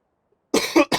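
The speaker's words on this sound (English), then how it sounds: "Sorry about that cough, guys." A single person coughs three times in quick succession, close and fairly loud, after about half a second of silence, with a gamer narrating a Farming Simulator 2015 session on Xbox One.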